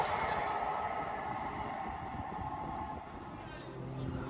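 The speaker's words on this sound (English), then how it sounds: "Right to pass through for Avanti West Coast is going to be 805009 running from London Euston to Crewe" An Avanti West Coast train, unit 805009, passes through Watford Junction station with a continuous broad roar of wheels and motion, steady and fairly close, then easing slightly near the end.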